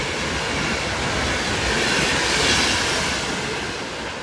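A Class 390 Pendolino electric train roars through Stafford station on the West Coast Main Line, a loud, steady rush of wheel and air noise that swells near the middle and eases slightly at the end.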